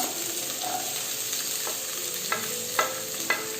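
Garlic, capsicum and vegetables sautéing in butter over a high flame, a steady close sizzle with a few sharp stirring scrapes and clinks toward the end.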